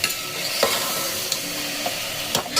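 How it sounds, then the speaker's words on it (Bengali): Masala sautés over medium to high flame in a pan, with a constant close sizzle broken by occasional scraping clinks of a spoon stirring and turning it. "মিডিয়াম টু হাই ফ্লেম করে করে এটাকে কষিয়ে নিতে হবে"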